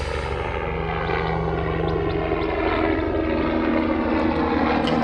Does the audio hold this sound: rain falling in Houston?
no